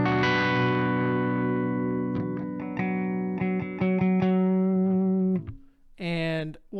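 An electric guitar plays through a Neural DSP Soldano SLO-100 amp plugin, sounding clean and glassy. Sustained chords ring out with choppy strummed accents, then a brief pause gives way to a short bright phrase.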